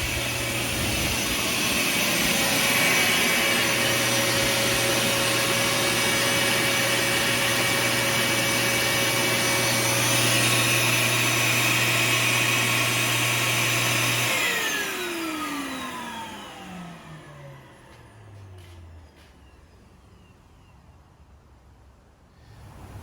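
A Bissell Garage Pro wall-mounted wet/dry vacuum runs with a loud, steady whine and roar, then shuts off and spins down, its pitch sliding lower as it fades to near silence.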